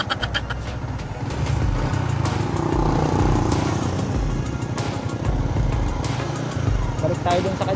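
A Yamaha Sniper 150 Monster Energy Edition 2020 motorcycle engine runs steadily nearby, a throaty rumble with some revving, loud throughout.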